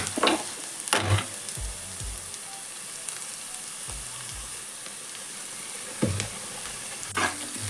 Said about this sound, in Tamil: இஞ்சி பூண்டு பேஸ்ட் வந்து ஒரு 2 நிமிஷம் வதங்கணும்